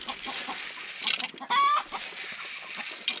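Hens clucking and squawking in a rural Albanian yard, with several busy, close calls and one sharp, louder cackle amid light background noise.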